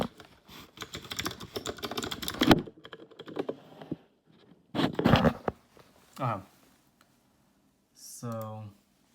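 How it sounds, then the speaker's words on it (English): Quick clattering keystrokes come in bursts on a Gingham through-hole mechanical keyboard, close and crisp, broken by pauses and followed by a short zipper-like rasp. "There's this Gingham keyboard."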